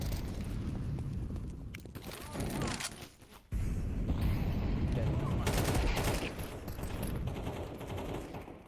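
Bursts of gunfire from the game Counter-Strike 2 crackle at low overall volume, dense and overlapping, with one short lull before the shooting resumes.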